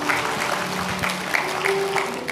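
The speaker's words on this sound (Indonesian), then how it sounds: "Tepuk tangan yang percaya." A church congregation claps together in a lively rhythmic burst during a worship service, with scattered accented claps over a steady background of hand-clapping.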